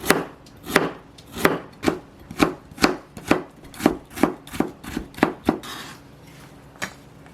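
A knife chops carrot on a cutting board while making cucumber kimchi: about a dozen crisp, evenly spaced chops, close and distinct, ending with a last lone chop after a short pause.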